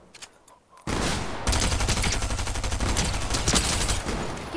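Rapid pump shotgun blasts and other gunfire in a video game, loud and continuous after a quiet opening, with dense overlapping shots.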